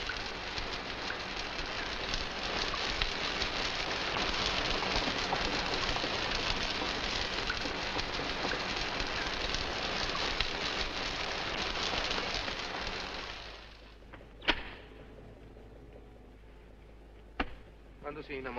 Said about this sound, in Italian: Piove? Sì, ma passa presto.